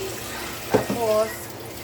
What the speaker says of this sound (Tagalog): Ngayon, actually, maghuhugas talaga ako ng feeding bottle nila.